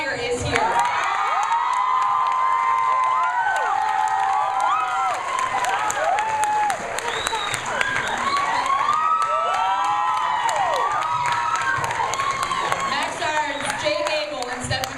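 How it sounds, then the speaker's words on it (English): Audience cheering, whooping and applause for author Stephenie Meyer at a Miami screening Q&A for The Host, a loud, dense crowd roar with shrill shouts sustained throughout. "a huge round of applause for the creator who penned this amazing story"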